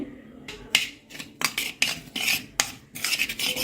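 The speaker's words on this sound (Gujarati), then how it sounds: "આ ગરમ હોય છે એટલે ચમચીથી મિક્સ કરવાનું છે" Hot ghee and millet flour for kuler are mixed with a metal spoon in a pot, making a close series of irregular scraping, rasping strokes and clinks against the vessel, with short quiet gaps between them and no talking.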